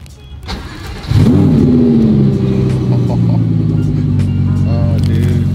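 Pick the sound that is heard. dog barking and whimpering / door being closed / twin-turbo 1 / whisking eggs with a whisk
twin-turbo 1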